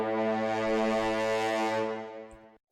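A synthesized braam, a huge low brassy foghorn-like blast, holds steady and loud for over two seconds before fading out, with no talk over it.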